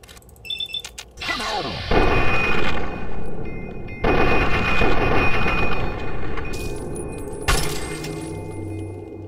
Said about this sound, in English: I just shot his head off.